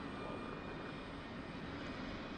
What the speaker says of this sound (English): See the RPM is spooling up, the FTID is raising.